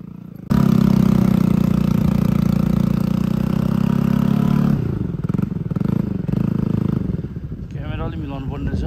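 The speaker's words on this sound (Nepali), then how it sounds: "मेरो बाइकको फेरि त्यो साइलेन्डर ठोकेर लास्टै लास्ट साउन्ड आउने भएको" A Bajaj Pulsar NS200 motorcycle with a knocked, damaged silencer drones loud and close at idle, then the engine note wavers and rises in uneven revs, with a voice briefly heard near the end.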